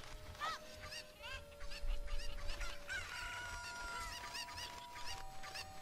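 Cucco chickens from Zelda Ocarina of Time cluck and squawk in rapid bursts, a busy flurry of clear game-audio bird calls over a steady tone, with no talk.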